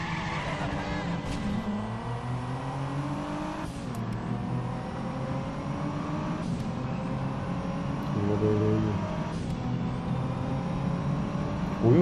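Car engines rev and climb through gears in the driving game Driver San Francisco, several sustained rising runs with a steady whine and shifts, loud and continuous throughout.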